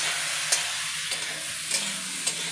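Spices and green chillies fry in a hot pan with a loud, steady sizzle, broken by a few quick scraping clicks as they are stirred, with no voices.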